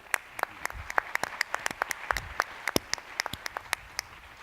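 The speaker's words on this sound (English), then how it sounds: "Let's give a round of applause for the speakers" An audience applauds the speakers after a governance roundtable, steady light clapping of moderate size heard from a little distance, with no talk over it.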